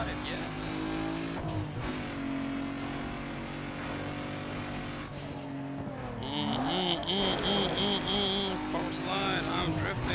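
A car drifts in the Need for Speed Underground 2 racing game: a loud engine drone shifts pitch as it revs, and a high tire squeal rises in the latter half, with a voice talking over it.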